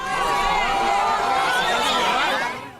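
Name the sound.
crowd of supporters cheering at airport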